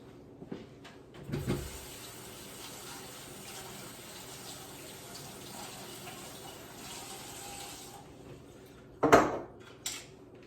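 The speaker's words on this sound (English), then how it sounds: "I'm going to wash my hands." Hands are washed under a running tap: a steady hiss of flowing water for several seconds, bracketed by nearby splashes and a brief clatter near the sink, fairly quiet overall.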